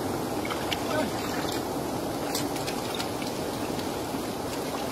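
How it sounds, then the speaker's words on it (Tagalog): Steady, dense heavy rain hisses without a break over a river, a constant wash of water noise filling the whole stretch. "malakas ulan"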